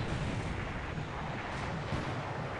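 A warship in a naval strategy game fires a shell at a destroyer, a dense, sustained boom that fills the moment, loud and rumbling with no pauses or voices.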